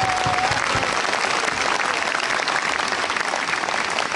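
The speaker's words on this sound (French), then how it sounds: "qu'on peut applaudir très fort" A crowd at a bullfighting celebration in Nîmes applauds loudly and continuously, a dense, even roar of many hands clapping at close range with no pause.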